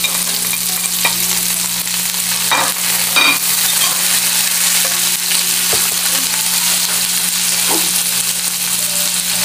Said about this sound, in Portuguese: Vamos deixar fritar aí um pouquinho.